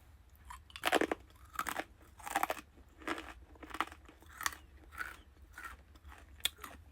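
Crunchy Asian snacks with a spicy, toasted-sesame flavour being chewed close to the mic, with about ten distinct, loud crunching bites in a steady rhythm and no talking.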